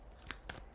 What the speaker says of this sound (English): We're going to shuffle and pull some cards.